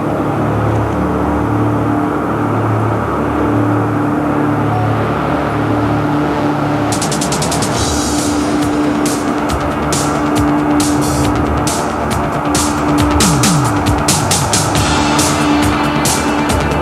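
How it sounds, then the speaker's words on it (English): A Northrop B-2 bomber's jet engines roar steadily, then build into a louder, crackling rumble as the aircraft starts its takeoff roll down the runway. "Pilot Bruce Hines ran up the engines, released the brakes, and started his takeoff roll"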